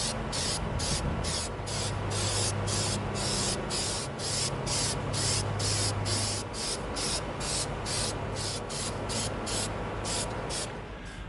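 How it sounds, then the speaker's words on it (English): An aerosol can sprays magenta paint onto an EVA foam prop at a spray stand in a rapid series of short hissing bursts, close and loud, with a low hum running underneath. "let's go out to the spray stand and let's hit our magenta"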